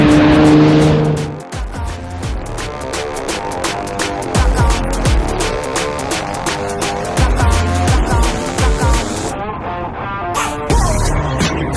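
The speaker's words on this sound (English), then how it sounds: "Here comes the big Healey. Just listen to the music from its exhaust." A big Austin-Healey classic car on a Cumbria touring run passes close by, its exhaust giving a loud throaty note that rises and fades, with a rapid burbling crackle as it goes past.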